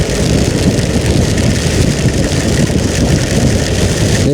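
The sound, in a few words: rain falling at night, motorcycle engine idling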